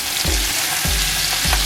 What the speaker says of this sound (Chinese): 用这个煸出来的油来煸香菇